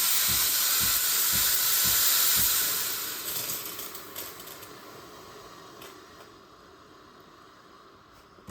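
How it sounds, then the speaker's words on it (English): A Breville coffee machine being repaired for a clog and a no-water fault lets out a loud, steady hiss of steam that fades gradually to a quieter, thinner hiss. "Yeah, probably it is steaming."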